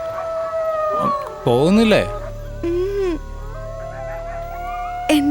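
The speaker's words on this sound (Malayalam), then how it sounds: "എന്തൊക്കെയോ അലറുന്ന ശബ്ദം. അത് നായയാണോ? നായയല്ല, നരിയ." A jackal in a dubbed action film howls with long, wavering rising and falling cries, loud and layered with other howls, while a person speaks briefly over it.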